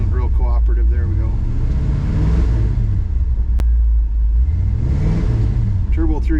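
An old truck with a Turbo 350 transmission, engine running loud and close with a steady low rumble that revs up and down as the gear takes hold, while someone talks over it.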